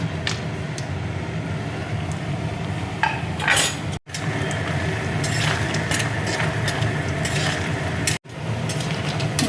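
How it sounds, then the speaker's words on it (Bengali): Lentil dumplings (bori) fry in hot oil in a kadai, giving a steady crackling sizzle with scattered clinks and scraping of a utensil against the pan, two brief dropouts breaking the sound. "কড়াইয়ে দেখো তেল দিয়েছি, তেল দেখো গরম হয়ে গেছে। এবার দেখো বড়িটা আমি দিয়ে দিচ্ছি।"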